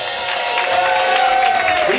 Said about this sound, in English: I want to elicit a round of applause for the one man that makes this happen